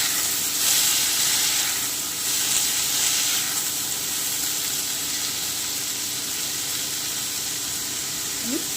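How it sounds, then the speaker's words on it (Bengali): Chopped cucumber frying in a pan for shukto produces an even, close hiss of sizzling and steam that holds steady throughout with little variation. "আমি 2 থেকে 3 মিনিট একটু ভেজে নিচ্ছি, যতক্ষণ শসাটা নরম হয়ে না আসছে।"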